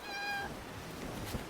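A cat in the Love and Deepspace video game lets out a single clear, tonal meow at the start, followed by a soft background of game ambience and a faint rustle.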